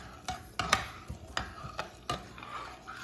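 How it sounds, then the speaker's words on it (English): A spoon stirs cheese sauce for macaroni and cheese in a pot over the stove, making soft irregular scrapes and clinks roughly every half second, close and quiet, with no talking. "Now you want to continue to stir this here, because you do not want your cheese to scorch or burn."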